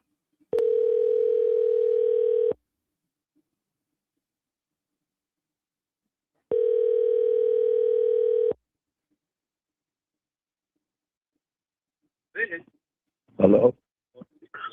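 Steady telephone dial tone sounds in two long two-second bursts separated by silence, loud and clean, followed near the end by brief clicks and a short voice as the call connects.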